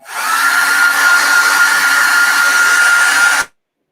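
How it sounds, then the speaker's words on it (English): A hair dryer drying paint blows with a steady, loud whir for about three and a half seconds, then cuts off abruptly into silence. "dry with the hair dryer."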